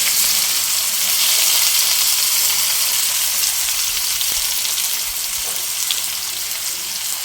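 Mustard seeds and onion frying in hot oil in a pan, a steady, close, dense sizzle that holds evenly throughout with no voices.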